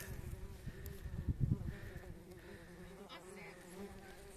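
Bumblebees buzz around their nest in a mown highland meadow, a faint low drone close by. A brief louder burst comes near the middle, and soft voices can be heard in the background.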